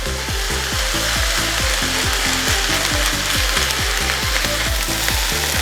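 Pork fried rice with eggs stir-fries loudly in a wok, a dense close sizzle over a fast, regular rhythmic scraping or rattling pulse that repeats throughout.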